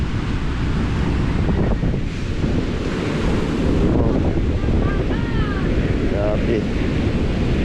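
Strong ocean waves surge and crash against the shore beside a beach cottage, a loud, constant roar buffeted by heavy wind noise on the microphone, while people talk excitedly over it.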